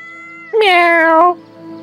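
Cat meowing in the video game Yes, Your Grace, one loud, clear drawn-out meow over a quiet tonal game background.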